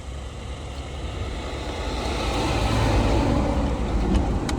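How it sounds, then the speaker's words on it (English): A big truck drives past outdoors, a broad engine and tire roar that builds steadily and stays loud and close as it passes. "Here comes another big truck."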